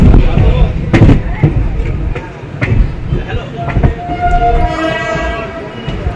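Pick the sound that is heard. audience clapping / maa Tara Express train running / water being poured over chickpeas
maa Tara Express train running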